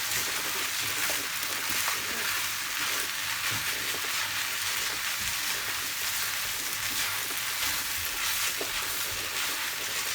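Chicken fried rice with soy sauce sizzles steadily in a frying pan as it is stirred, a continuous close crackling hiss with small scraping bursts and no voices.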